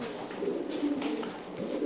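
Soft, low pigeon cooing murmurs close by, a few gentle throaty coos over a quiet background.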